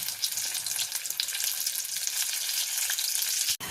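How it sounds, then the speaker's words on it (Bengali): Vetki fish fillets frying Kolkata style in hot oil until golden, giving a steady, dense sizzle that stays even throughout, with one brief dip near the end and no voices. "ফ্রাইটা কিন্তু আমি পুরোপুরি গোল্ডেন ফ্রাই হতে দেব, আর একটু ফ্রাই হবে, তারপরে তুলে ফেলবো।"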